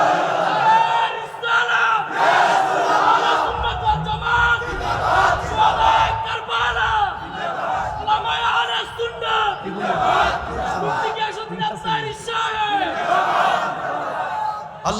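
A crowd at a religious waz mahfil chants slogans in unison, loud rhythmic massed shouts rising and falling in repeated waves close to the microphone.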